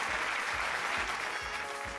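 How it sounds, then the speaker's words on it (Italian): Applause for a woman caller on a live televised phone-in quiz, steady clapping from a crowd filling the whole stretch at a constant moderate level, with a low rhythmic thump pulsing underneath. "Facciamo un applauso alla signora."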